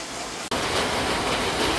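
Heavy rain pours down steadily in a broad, dense hiss after a brief dip at the start, loud and continuous with no voices.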